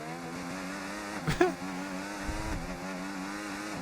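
A Mercedes race car in an F1 video game, its engine droning steadily as traction control cuts in with a brief stuttering rev spike coming out of the final corner at the Mexico GP.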